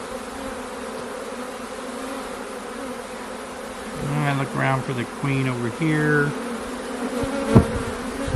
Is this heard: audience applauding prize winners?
no